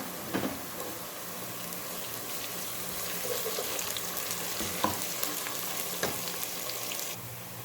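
Garlic ginger paste fries in a pan for qeema matar, with a continuous sizzling hiss, a few scraping stirs and clinks of a spoon on the pan, close and moderately quiet, with no talking.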